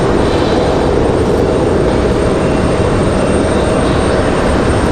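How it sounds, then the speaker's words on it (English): Southwest airliner taking off from a runway at Raleigh-Durham International Airport, a steady, loud broadband jet roar that fills the whole stretch without letup. "We've seen one Southwest just hit the end of the runway and go."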